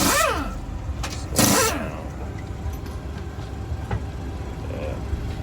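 A seventh-generation Honda Accord with a manual transmission, its starter cranking briefly before the engine catches, followed by a short rev burst and then a steady idle, heard close by.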